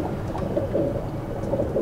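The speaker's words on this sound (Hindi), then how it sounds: "ये हमारे उड़ने वाले कबूतर हैं" Flying pigeons kept at a pigeon club coo softly and continuously, low throaty calls repeating close by over a steady background.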